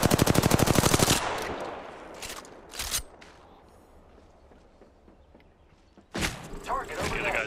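Video game gunfire erupts in a dense, loud burst of rapid automatic shots at the start, followed by a few isolated shots and a fresh heavy volley near the end, with game ambience between.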